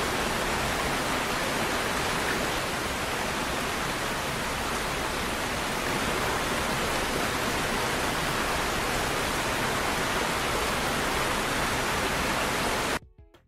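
Loud, steady rush of water pouring nonstop at close range, a dense roar that holds unchanged for about thirteen seconds before cutting off abruptly at the end.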